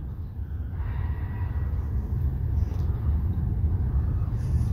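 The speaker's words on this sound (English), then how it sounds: "Love the sound of that GE." A GE diesel locomotive idling and notching up in a lumber yard, heard from about ten or twelve car lengths away as a steady, heavy low rumble that swells slightly, with no talking.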